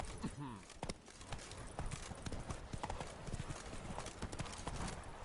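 A horse's hooves clip-clop in a quick, steady rhythm close by, while a brief voice or whinny rises at the very start.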